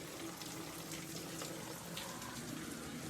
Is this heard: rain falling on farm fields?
yes